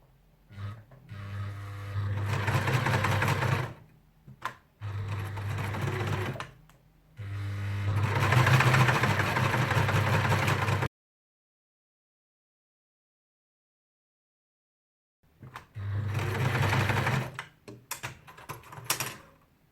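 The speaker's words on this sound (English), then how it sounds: "And now I'm going to start sewing." A sewing machine stitches a fleece cage pouch for small pets in several long runs of fast, even mechanical whirring, close and loud, with a long silent pause between bursts.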